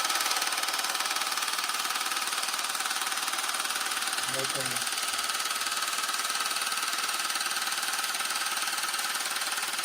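A loud, steady buzzing hum of an acoustic wave therapy device runs continuously with no breaks, harsh and close, with a brief low thump partway through.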